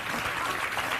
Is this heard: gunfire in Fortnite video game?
no